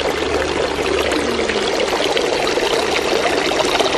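Cold spring water pours steadily at the Ryujin water fountain of Hakone Shrine, a continuous close splashing stream with no talk.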